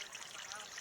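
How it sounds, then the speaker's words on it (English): Brief, faint trickle of running water for birds to drink and bathe in, a soft continuous splashing with no voices, at sunset in Palm Springs. "Does the sound of the water soothe them?"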